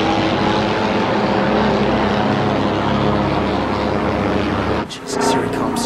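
A German long-range reconnaissance aircraft passes overhead in a submarine war film scene, its propeller engines a loud, close, steady roar that cuts off abruptly near the end.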